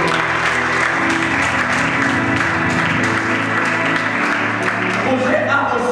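Loud, sustained applause from a dinner crowd at a charity meal with orphans, dense clapping running steadily throughout with voices mixed in underneath.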